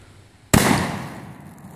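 A Dragon's Breath incendiary shotgun round fires outdoors: one sharp, loud blast bursts out of quiet, then a long roaring, crackling whoosh of burning pellets fades slowly.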